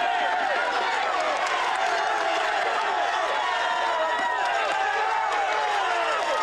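Roadside crowd on a Tour de France mountain climb cheers and shouts continuously, a loud, dense roar of many voices with scattered whistles and claps sustained throughout.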